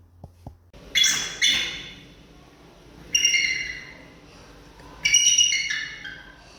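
Bald eagles give three shrill squawking calls, each a harsh, piercing cry with a trailing tail, spaced a couple of seconds apart and heard fairly close with little else around.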